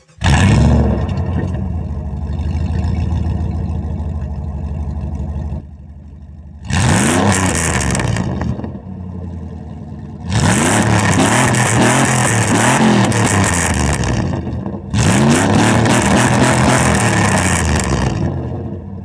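Jeep Grand Cherokee ZJ with the muffler removed and a racing catalytic converter, engine revved hard in four loud bursts that rise and fall, separated by brief drops back toward idle, raw and close with no talking.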